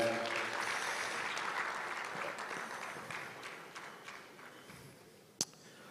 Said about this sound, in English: Dr. Margaret Korosek, another round of applause for her.